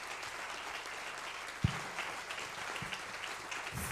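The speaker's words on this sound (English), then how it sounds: "So big applause for our panelists." An audience applauds conference panelists in a steady, moderately quiet ripple of clapping that holds even from start to finish, with one sharper thump near the middle.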